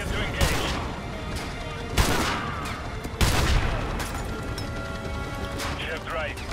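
Sniper rifle shots in Call of Duty Modern Warfare 2 Campaign Remastered, the Gulag mission: three loud, sharp reports spaced a second or so apart over a busy battle bed, with radio voices talking throughout.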